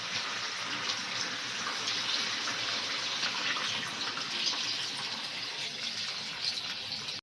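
Water poured into a pan of chicken curry, a steady hissing gush that runs evenly and close throughout before cutting off abruptly at the end, with no voices.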